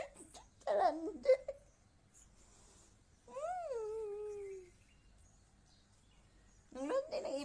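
Pet parrot named Hydie vocalizing indoors: a short squawky chirp, then a long drawn-out warbling call, and another burst at the end, fairly close with quiet gaps between.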